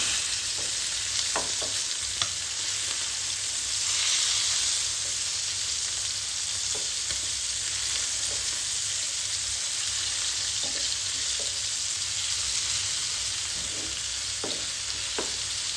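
Fish pieces fry in hot oil in a pan, giving a loud, steady, close sizzle and crackle that continues without a break, with a few faint scrapes and no voices.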